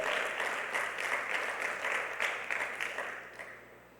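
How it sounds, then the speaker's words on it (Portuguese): Applause from a church congregation, dense steady clapping filling the room for about four seconds before thinning out at the end. "Vamos dar uma salva de palmas."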